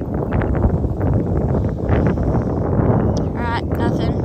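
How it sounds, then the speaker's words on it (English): Heavy, rumbling wind buffets the microphone nonstop, loud and close, with faint voices breaking through near the end. "It's really windy right here."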